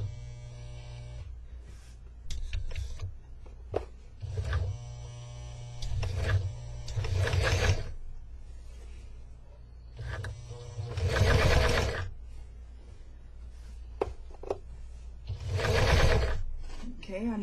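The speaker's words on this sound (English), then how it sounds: "I'm going to adjust my little attachment until I'm stitching close to the edge but not over it. Now take a few stitches." A sewing machine with a binder foot attachment stitches binding onto fabric edge in several short motorized bursts, each a steady whirring run separated by pauses, close and fairly loud.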